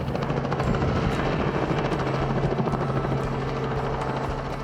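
A helicopter's rotor thumps rapidly and steadily with a loud engine drone, sounding close and constant throughout.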